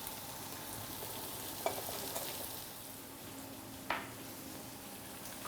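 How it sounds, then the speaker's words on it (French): Poultry carcasses browning in a pan give a steady, soft sizzle, with a couple of sharp utensil clicks against the pan near the middle and again later; no one speaks. "Alors nos carcasses sont bien revenues."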